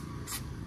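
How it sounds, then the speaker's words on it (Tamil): Oil spray jet squirting oil inside a Mahindra TUV300 engine during assembly, a brief close hiss in two short bursts with steady background noise and no talk. "அது எப்படி ஸ்ப்ரே பண்ணும் பாருங்கள்"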